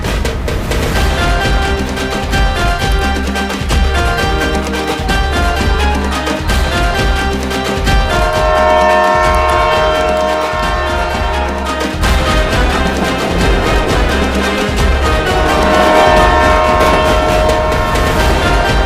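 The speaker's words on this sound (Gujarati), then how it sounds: "અરે ટ્રેન ચાલુ" A passenger train rolls along with steady rumble and rhythmic clickety-clack of wheels on rail joints, with a horn-like tone rising at intervals, loud and close throughout with no talk.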